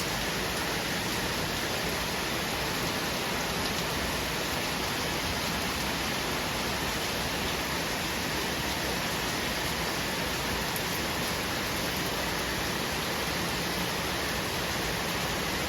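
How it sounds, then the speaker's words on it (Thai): Heavy midnight rain pours down in front of a balcony during a likely storm, a dense, even roar of water that holds steady and uninterrupted throughout. "ฝนตกหนักมากสงสัยจะพายุเข้าค่ะ"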